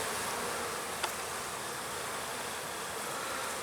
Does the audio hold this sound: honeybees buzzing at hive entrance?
yes